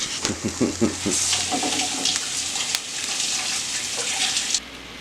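A kitchen sink tap runs steadily while hands are washed after handling shrimp, with splashing water and small clinks, then the flow cuts off near the end.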